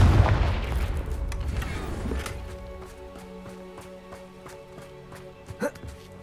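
Confringo explosion spell in the game Hogwarts Legacy: a loud booming blast that rolls and decays over several seconds into a rumbling tail, with faint metallic ringing and a small late knock, close and heavy.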